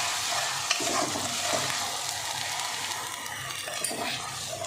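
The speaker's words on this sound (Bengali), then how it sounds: "গ্যাসের ফ্লেমটা আমার কমানোই আছে আমি মশলাটাকে ভেজে নিচ্ছি" Spice paste frying in a pan over a low gas flame gives a steady, close sizzle that continues throughout, with occasional stirring scrapes and no voices.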